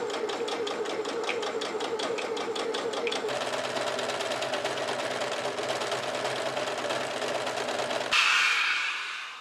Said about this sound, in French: on va aussi surjeter le bas et faire le rentré comme sur le milieu devant